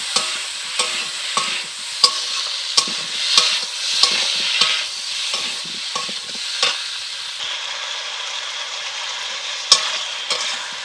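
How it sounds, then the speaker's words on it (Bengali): Ground spices and chili powder sautéed in a pan for a koi fish curry, producing a soft sizzle punctuated by regular spatula scrapes and taps, close and alone without speech. "সব কিছু খুব ভালো করে কষিয়ে নিতে হবে।"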